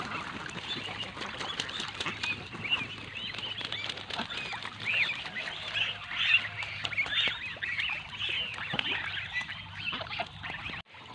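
Domestic ducks of a king-duck breed bathing and playing in water, with steady splashing and patter, wing flapping, and scattered honking quacks throughout.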